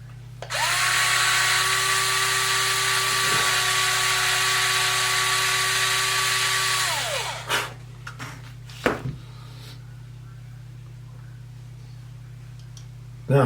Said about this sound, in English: I have this electric drill, an electric screwdriver. Put a drill bit in it.